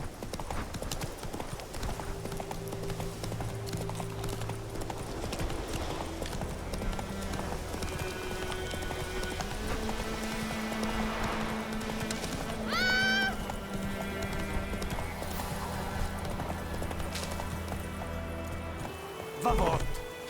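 Roach, a horse in the video game The Witcher 3, gallops with steady clip-clop hoofbeats and a whinny, set against game music, with a voice speaking over it.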